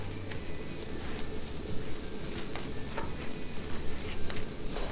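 Four bun slices toasting in a pan, a steady close sizzle with faint crackles and ticks running throughout and no talking.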